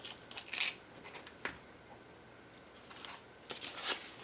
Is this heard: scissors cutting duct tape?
yes